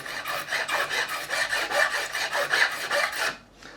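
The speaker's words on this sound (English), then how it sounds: "We'll finish off with this file, crowning file, just to remove any burrs or any unevenness in that shape." A crowning file rasps back and forth across a fret on an Epiphone Les Paul Standard guitar, with about a dozen quick, even strokes close up, then stops.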